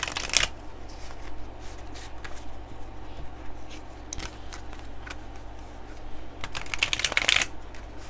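Tarot cards are shuffled by hand in repeated soft riffling bursts, close and fairly quiet, with sharper flurries at the start and near the end.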